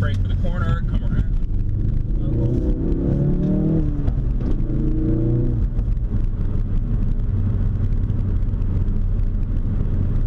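A Ford Focus RS hot hatchback engine drones loudly from inside the car as it downshifts into second and brakes for a corner. The revs swell and fall, with a voice heard briefly at the start.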